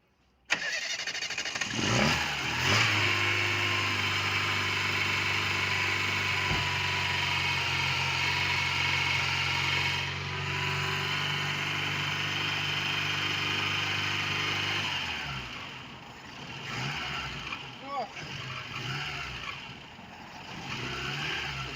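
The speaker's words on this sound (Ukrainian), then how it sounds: "Ну що, будемо заводити машину після ремонту." Engine of a ZAZ Tavria car, just repaired, with a carburetor that raises the revs by itself, cranking and catching, then running steadily at high, loud revs, with a short dip and uneven revving near the end.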